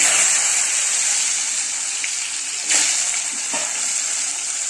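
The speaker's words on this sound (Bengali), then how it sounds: "আলুটাকে ভালো করে ভেজে নিয়ে" Potato pieces fry in hot oil tempered with cumin seeds, dried chilli and bay leaf, giving a steady loud sizzle with a few sharper spits and crackles.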